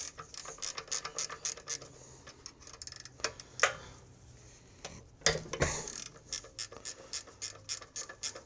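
A hand ratchet clicks in quick, rapid bursts while loosening the two connecting rod bolts inside a Honda GX140 small engine that burns oil, with short pauses and a couple of louder metallic clanks between the bursts.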